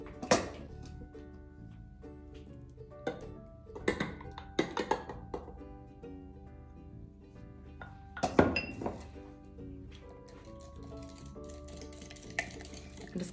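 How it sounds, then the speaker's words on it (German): A spoon stirs butter into warm lemon curd until it melts, making irregular light clinks and taps against the bowl, faint and close, over a soft steady tonal background. "Und das Ganze wird dann so lange verrührt, bis die Butter geschmolzen ist."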